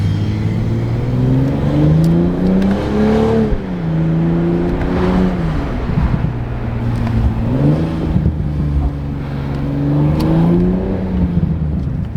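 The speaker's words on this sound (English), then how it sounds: "give you guys more sound clips of how it sounds with just the catback, flybys, as well as some revs" A Gen 3 B58 engine with catback exhaust and downpipe revs and drones as the car passes, pitch rising and falling through gear changes, loud and continuous with a throaty exhaust note.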